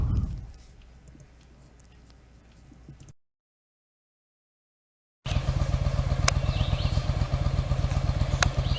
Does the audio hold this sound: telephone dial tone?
no